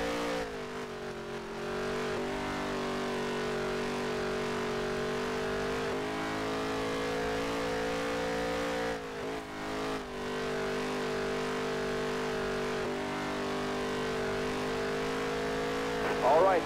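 A stock car in NASCAR Heat 3 screams through a fast lap, its engine holding a steady high-pitched drone with gear-like pitch shifts and brief dips, loud and continuous throughout.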